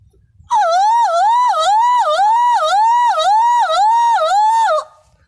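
A voice mimics a 108 ambulance siren, a loud rising-and-falling wail repeated about eight times in a steady rhythm, then stops.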